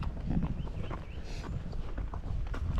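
A Spotted Saddle Horse walking outdoors, hooves clip-clopping in an uneven steady rhythm over ground, close by with wind and rustling mixed in.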